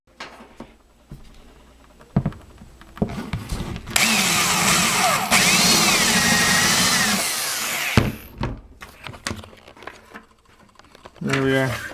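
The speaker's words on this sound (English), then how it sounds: "to drill out the inserts, we just use a countersink bit" A drill with a countersink bit bores out the metal inserts of a handmade kiteboard, a loud grinding whir lasting about four seconds, framed by clicks, handling noise and someone talking.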